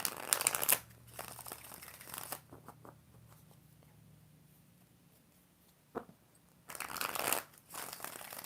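A tarot deck is shuffled in quick riffling bursts at the start and again near the end, with a quiet stretch of faint handling noise between them.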